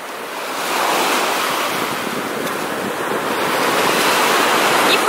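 Continuous broad wash of sea surf rolling onto the shore with wind blowing across the microphone, building slightly louder toward the end; no voices.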